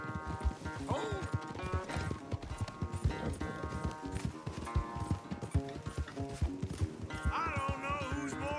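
Hooves clip-clop rapidly as horses gallop in a race in the video game Red Dead Redemption 2, with neighs and whinnies breaking in over the pounding rhythm and game music and voices mixed in.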